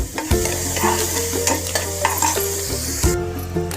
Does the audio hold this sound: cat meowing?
no